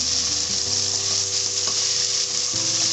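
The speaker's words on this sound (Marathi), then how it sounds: "आता हे आपण छान परतून घेऊया" Okra (bhendi) sautés over a low flame in a pan, giving a continuous even sizzle with faint stirring touches, close and unbroken.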